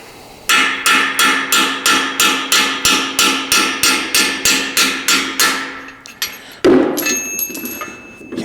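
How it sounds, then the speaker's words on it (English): A brass mallet strikes a drift to knock out a split valve guide on a 79-year-old Jeep engine: about fourteen sharp, evenly spaced metallic blows close up, then a pause and a heavier clunk with clattering. "So brass mallet time."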